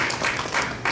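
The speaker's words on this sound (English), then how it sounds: "really a big round of applause for them and the great work that they did" Audience applause at a farewell summit for a consul general in Chicago, with a steady wash of many hands clapping close by for about a second.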